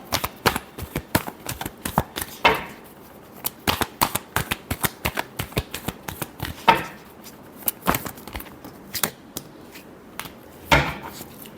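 A deck of tarot cards being shuffled by hand, close and crisp, with repeated riffling bursts and sharp card snaps in an uneven rhythm, alone without talk.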